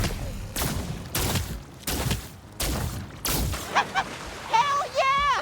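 Repeated gunshots in High on Life 2 keep lug blobs bouncing in the air, four loud evenly spaced blasts followed by wet squelchy pops and warbling alien creature noises.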